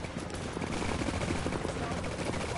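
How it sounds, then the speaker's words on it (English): Rapid burst-fire gunfire in the video game The Division, dense overlapping shots close and loud over a constant rumbling background, with voices mixed in. "Oh, it's a burst fire."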